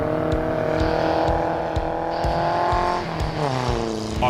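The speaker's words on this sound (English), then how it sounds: "But racing on ice is a whole new deal for us." Race cars speed across the frozen ice of Lac La Biche in Alberta, engines droning steadily with rising and shifting pitch, a close, continuous motor roar with faint rhythmic clicks throughout.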